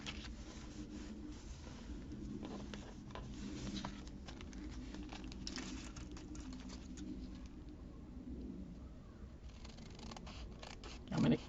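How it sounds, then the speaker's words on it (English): Scissors snip through a wax paper bag made for a journal, soft close crinkles and cuts over a faint background, ending in a louder crunch. "I'm going to cut this little hanging paper off."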